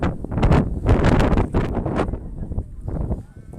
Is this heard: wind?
yes